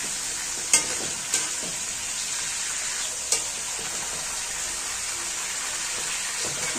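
Hot oil hissing steadily as vermicelli fries at the start of a yellow lentil soup, a constant bright sizzle with a few sharp spatters and pops near the beginning.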